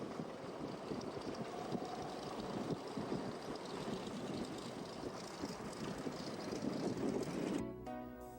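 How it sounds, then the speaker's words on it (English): Douglas DC-3 propeller aircraft at Whitehorse, its piston engines giving a steady, loud broadband roar throughout that cuts off abruptly near the end. "And all the DC-3s look beautiful, and they sound pretty good too."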